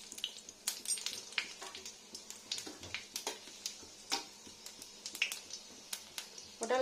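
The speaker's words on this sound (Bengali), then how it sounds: "তেলটা গরম হয়ে গেছে, এটা হচ্ছে পাঁচফোড়ন। দেখুন এটা দিয়ে নিলাম পাঁচফোড়ন।" Panch phoron, a five-spice mix, crackles in hot oil in a wok for a simple vegetarian potol curry, giving quiet, irregular sharp pops and snaps over a faint background hiss.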